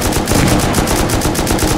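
Rapid automatic gunfire rattles in Rust, a dense, continuous stream of loud, close shots during a base raid with no pauses.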